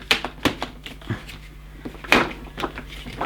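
Hard plastic knocks and clacks as a Hoover Vortex Evo Pet upright vacuum cleaner is pushed onto its handle, with a few sharp close taps spread over a quiet room background.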